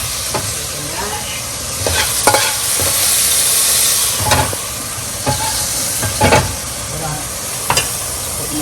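Beef and broccoli frying in hot oil, with a steady sizzling hiss and the scrape and clink of stirring at irregular intervals, close and fairly loud.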